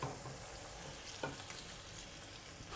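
Egg dumplings slide into a pan of soy sauce braising liquid over medium heat, a steady close sizzle with a soft bump and a few faint clicks.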